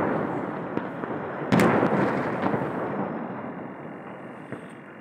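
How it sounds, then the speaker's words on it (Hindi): Heavy bombardment by Russian forces at the Azovstal plant: a continuous roar of distant blasts and rumbling under a sharp, loud explosion crack partway through, with smaller bangs scattered around it. "रूसी सेना की जबरदस्त बमबारी चल रही है"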